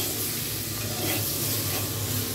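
Chopped tomatoes are tipped into a pan of frying potatoes, giving a loud, steady sizzle and hiss that carries on without a break.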